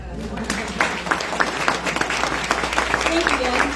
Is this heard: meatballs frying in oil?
no